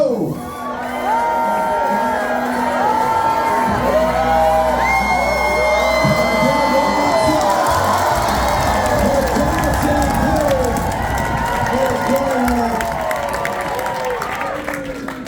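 A crowd at a timber sports show in Alaska roars and cheers loudly and continuously, with whoops and children's shouts layered over the din for the full length.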